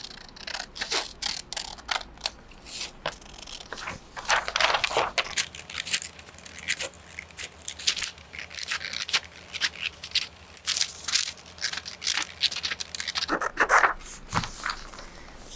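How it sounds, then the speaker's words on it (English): Paper scissors snipping along a line through a tiled paper sewing pattern, giving a steady run of close, crisp cutting crunches and small paper rustles with no talk. "So I would cut with my paper scissors, of course, right along this line."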